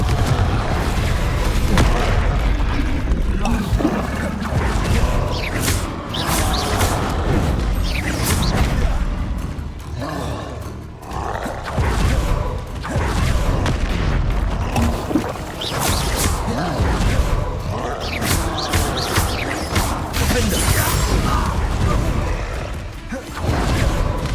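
Confringo explosive spells in the Hogwarts Legacy video game: a dense, continuous barrage of booming blasts and crackling impacts over rumbling game effects, loud throughout, with faint voice shouts mixed in.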